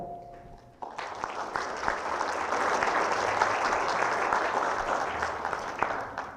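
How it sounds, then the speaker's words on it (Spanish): Warm applause from an audience at a tax defense conference, starting abruptly after a brief tone and swelling into a steady, dense wash of many hands clapping, moderately loud and sustained. "a quien le pido un cálido aplauso"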